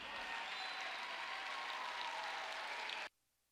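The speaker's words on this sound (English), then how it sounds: "one big round of applause for all of our OU graduates from the University of Oklahoma for the classes of 20 and 21." A graduation ceremony audience at the University of Oklahoma College of Law applauds in a steady, dense wash of clapping that holds for about three seconds and then cuts off abruptly.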